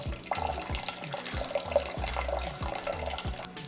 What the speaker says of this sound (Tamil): இப்போ வந்து பருப்பு முங்குற அளவுக்கு நம்ம தண்ணி ஊற்றிட்டோம்